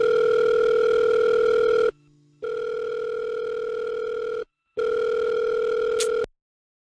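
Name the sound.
telephone call ringing, unanswered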